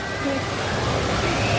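A waterfall pours in a steady broadband rush, dense and continuous, with a voice talking over it.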